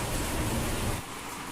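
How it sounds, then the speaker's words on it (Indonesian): Heavy rain drums on clay roof tiles during a thunderstorm, a dense steady hiss that is louder for the first second and then eases slightly; no distinct thunderclap stands out. "Ada petir juga, jadi suaranya agak-agak berisik air hujan di gendeng ya."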